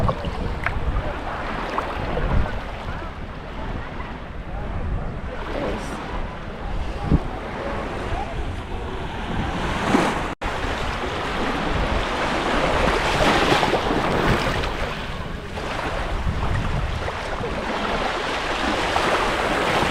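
Mediterranean sea waves washing onto a beach in Spain, a continuous broad rushing wash of surf heard close, with gusty wind over it and no talk.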